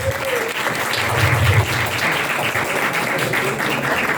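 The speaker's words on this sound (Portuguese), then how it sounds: "Uma salva de palmas." Audience applause fills a Brazilian literature conference hall as a professor is invited to the table: dense, steady clapping from a sizeable crowd, fairly close and even in level throughout.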